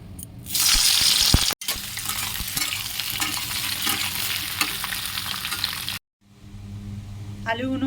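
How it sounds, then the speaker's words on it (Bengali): Boiled potatoes frying in hot mustard oil in a wok, a loud steady sizzle with stirring scrapes that stops abruptly near the end before quieter kitchen sounds return. "আলুটাকে হালকা ভেজে নেবো তেলে।"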